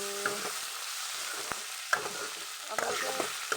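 Tomatoes sizzle in hot oil in a pan, a steady soft frying hiss broken by a few clinks and stirring knocks, close and fairly quiet with no voices.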